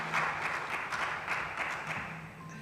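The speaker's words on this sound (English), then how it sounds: "a big hand of applause for Dr." At an investment plenary, audience applause runs as a faint, distant, even patter of many hands clapping for a few seconds, with no voices over it.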